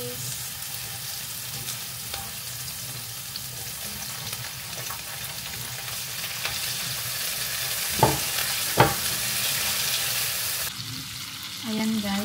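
Tomatoes frying in a pan for Filipino-style picadillo, a steady loud sizzle throughout with occasional stirring scrapes and a couple of sharp knocks from the spoon against the pan.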